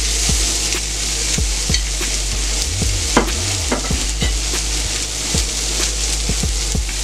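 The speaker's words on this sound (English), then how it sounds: "we're going to put on this big steak here. Got that sear." A big steak sears loudly in a hot steel pan, with a steady crackling sizzle and occasional sharp pops and tapping utensil sounds throughout, no talking.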